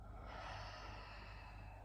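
A soft, breathy exhale, a long, gentle rush of air heard up close in a quiet room.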